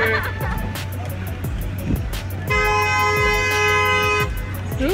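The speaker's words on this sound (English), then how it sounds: "Who is honking?" Car horns honking in busy street traffic, repeated short toots followed by one long sustained blast, loud and close over the rumble of vehicles.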